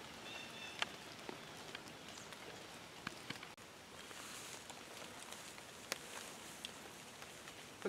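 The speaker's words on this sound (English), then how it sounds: "It is raining right now." Soft, steady rain patters outdoors at a low level, with scattered drops ticking and faint rustling underneath.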